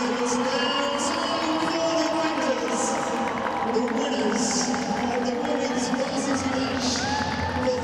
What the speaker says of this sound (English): Plenty of cheers going up from the crowd